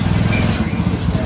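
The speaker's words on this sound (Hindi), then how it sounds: "सतवारा नंबर वन इंडिया का बाइक पहली बार आ चुका है पेट्रोल में 50 cc में।" A 50cc petrol kids' motorbike engine running, a loud steady buzzing putter with a low pulsing rumble, close by, in a brief continuous burst.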